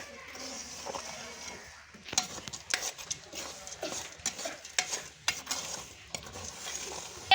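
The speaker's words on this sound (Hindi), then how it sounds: "अब हम इसे अच्छी तरह से 5-7 मिनट भूनेंगे क्योंकि ये अंदर से पक जाए।" Fresh, fat corn kernels roast in a pan for village-style jaggery corn, giving a steady low sizzle under repeated scraping and clinking stirs that grow busier after a short quieter stretch.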